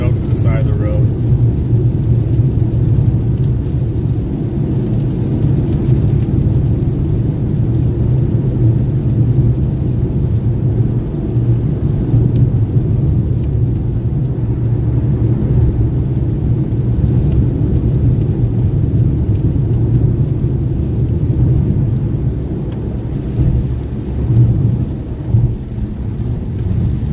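Steady rain and a low, continuous road and engine rumble inside a car climbing a winding mountain road, loud and even throughout with no pauses.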